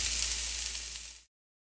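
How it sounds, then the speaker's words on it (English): Onion and carrot sizzle in a touch of hot oil, a dense steady hiss that cuts off abruptly after about a second. "So add a touch of oil and go ahead and add our onion and our carrot."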